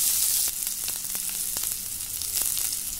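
Onions sautéing in a pan for a beetroot stir-fry give a steady, close sizzle with a few sharp crackles and light stirring clicks, no voices present.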